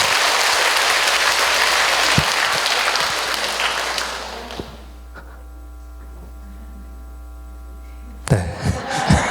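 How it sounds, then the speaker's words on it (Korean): Applause from a parish audience at a Catholic church training session in Gimpo, a dense burst of clapping that fades over several seconds, leaving a low mains hum, before a short rustle of handling noise. "우리 큰 박수로 김상혜 신부님 모시겠습니다"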